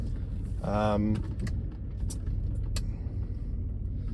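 Vauxhall Omega V6 car on a short drive, a steady low engine and road rumble running throughout, with a brief voice near the start and a few small rattles or clicks inside the cabin.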